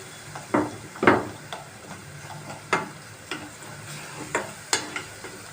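Food sizzles and fries in a pan for koshari, with steady crackling broken by several sharp clinks and scrapes of stirring, close and alone.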